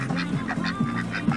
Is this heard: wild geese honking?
yes